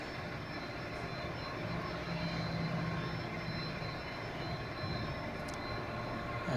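A steady, broadband roar of an Air Canada airliner in old livery at Zurich Airport, heard from a distance as a continuous even rumble with no voices.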